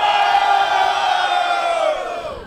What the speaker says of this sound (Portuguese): Barulho para as rimas do Moita Treta